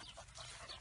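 A small female dog pants softly in quick, breathy rhythm, faint and close, with no one speaking over it.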